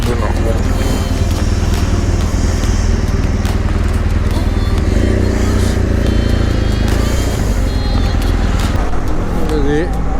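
Continuous evening road traffic in Karachi, with a heavy low rumble of car and motorcycle engines and scattered horn-like tones, close and unbroken for about ten seconds.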